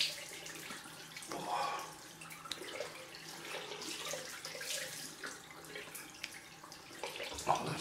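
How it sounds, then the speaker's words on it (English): Cold water runs from a bathroom tap after a wet shave, a steady broadband splash with faint drips and splashes of hands at the sink, fairly quiet throughout. "I'm going to use some cold water on the face actually"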